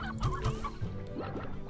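A stony hen in the video game Slime Rancher clucks in a quick series of close, clear calls with a few rising squawks, heard alone without talk.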